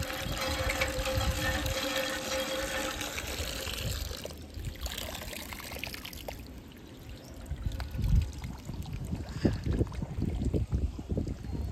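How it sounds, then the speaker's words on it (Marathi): Water drawn by a hand pump at a village well gushes and pours steadily, its flow rising and falling with the pumping and growing more splashy toward the end, with faint voices in the background. "आणि पाणी काढून बघूया इथे"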